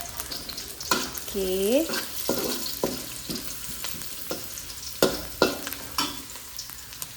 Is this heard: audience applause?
no